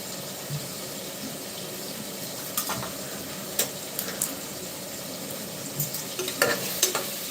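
Half a tomato frying and being stirred in a pan for mutton curry, a soft continuous sizzle with scattered clinks and scrapes of a spoon against the pan, no voices.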